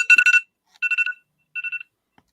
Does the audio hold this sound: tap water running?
no